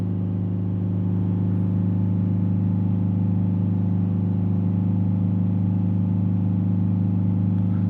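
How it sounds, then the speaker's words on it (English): A Mercedes E Class diesel engine is held steady at 3000 RPM, giving a loud, constant droning hum with strong tonal harmonics that never varies, with no talking. "I'm going to hold the revs up at full revs, which is 3000 RPM"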